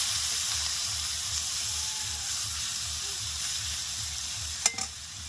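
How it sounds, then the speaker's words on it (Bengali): Fresh river fish fry in hot oil in a pan with a steady close sizzle and hiss, a faint rhythmic stirring pulse underneath and a brief clatter near the end. "এই দেখুন মাছটা আমার হালকা একটু ভাজা হয়ে গেছে।"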